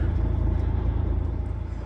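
A steady, close truck engine idle with a low, even rumble that holds continuously without pauses or revving.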